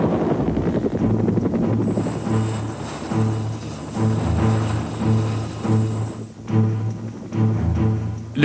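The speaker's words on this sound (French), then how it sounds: "Le bruit caractéristique des pales de leur rotor" Bell UH-1 Huey helicopter with its characteristic rotor blade beat, a steady rhythmic thumping chop under a turbine whine, loud and close throughout.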